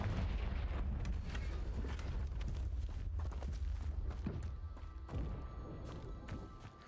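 Confringo spell blasts in Hogwarts Legacy, with a couple of short explosive bursts rising out of a dense, steady bed of game sound and music.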